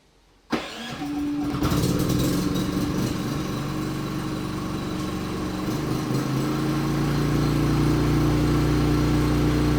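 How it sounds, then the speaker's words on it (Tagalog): A standby generator cranks and catches automatically after a mains power cut, then settles into a steady, loud running drone that builds slightly in intensity over several seconds, heard alone. "Dapat mabubuhay na yung ating generator."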